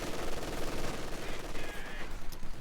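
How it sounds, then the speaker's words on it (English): Sniper and machine gun fire in a competitive match of the video game THE FINALS, a steady dense crackle of shots running throughout at moderate loudness. "The sniper's second action is to fire upon these grenadiers once more."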